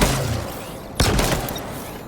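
Sentinel beam fire in Halo Infinite aimed at grunts and a brute, with a sharp energy burst cutting in halfway through over steady background game noise, loud and close, no voices.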